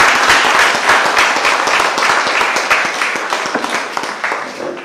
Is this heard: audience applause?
yes